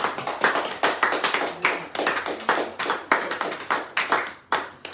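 A church congregation applauding the Lord, with many hands clapping in loose, uneven waves that rise and fall, close and lively, and no voices over them.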